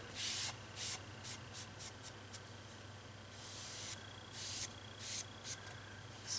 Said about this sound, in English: Applying it with a sponge.